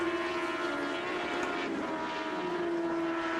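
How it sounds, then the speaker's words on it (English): A superbike engine holds a steady, droning tone as the rider feathers the throttle slightly during an Ulster Superbike race at Kirkistown, a continuous mid-distance hum with only slight wavering and no voices. "He could just be feathering the throttle ever so slightly"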